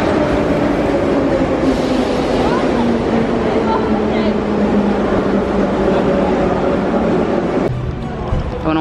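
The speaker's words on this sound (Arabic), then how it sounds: "هذه محطة المترو مرة جنب الفندق" A metro station in Baku, with a train producing a loud, continuous rumble and a sustained tonal whine that shifts abruptly near the end, voices mixed faintly into the din.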